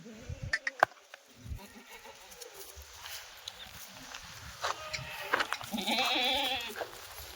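Sharp knocks open the clip, then a Kathiawari goat lets out a wavering bleat near the end over low murmuring and rustling.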